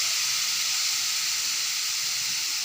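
Grated amla sizzles in a little hot oil in a pan, a steady, even hiss with no breaks and no voices.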